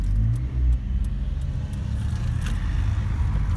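A car drives along a street in Karditsa, Greece, a steady low engine rumble and tyre roar filling the scene at close range with no talk over it.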